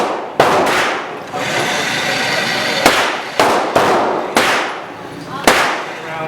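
Sharp gunshots from handguns at an outdoor shooting range, about six loud cracks spaced irregularly over several seconds with ringing decay, with a spoken voice briefly between shots.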